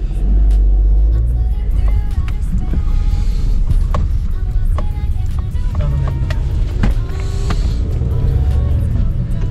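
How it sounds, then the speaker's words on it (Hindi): A new car pulls away and drives off in foggy weather, its engine a steady close rumble throughout, with a few clicks and knocks on top and no talk. "सो अभी हम चलते हैं ये गाड़ी लेकर, नई गाड़ी है, थोड़ी सी पीछे जा रही है"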